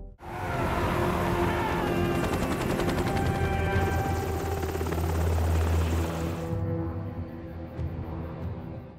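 A helicopter thunders close by with loud, continuous rotor chop and engine whine, joined by rattling bursts that sound like gunfire, before the roar cuts off abruptly near the end.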